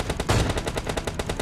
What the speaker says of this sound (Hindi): तो यहाँ से मैंने शॉट्स लिए